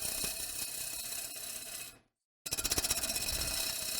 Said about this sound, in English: No, we're gonna turn the outside of a bowl.